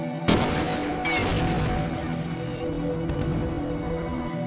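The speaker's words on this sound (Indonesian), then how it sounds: "memberikan bantuan berupa tembakan artileri" Heavy booming blasts of artillery in a war film, one sharp report then another, with dense rumbling gunfire and explosions continuing loudly throughout.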